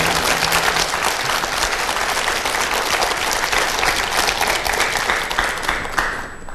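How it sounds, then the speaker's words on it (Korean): A lecture-hall audience applauds a performance of the 1812 Overture, a loud, dense and sustained round of clapping that carries on throughout and eases slightly at the very end. "박수 한번 보내십시오"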